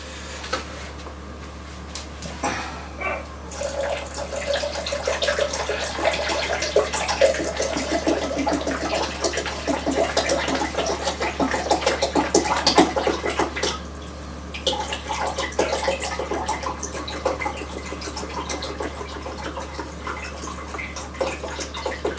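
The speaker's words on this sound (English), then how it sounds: "I'll pour this out without it splashing all over the place." Deionised water pours steadily into a jug for an electroplating solution, a continuous splashing, bubbling rush that starts after a few seconds of quiet and runs at even loudness, briefly dipping before resuming.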